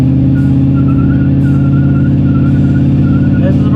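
A car doing a burnout at a drag race, its engine holding a loud steady drone with a rough pulsing growl and a faint squealing overtone, close and continuous.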